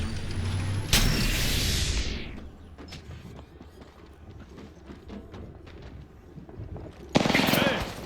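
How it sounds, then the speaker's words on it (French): Gunfire in a battle royale video game duo match: sharp bursts of shots open and close the stretch, with rapid clattering reports and quieter game sounds between them. "Hey, on me tire dessus."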